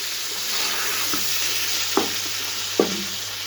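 Mutton with spices fries and browns in a pot, a constant close sizzle overlaid by three soft stirring thumps spaced about a second apart.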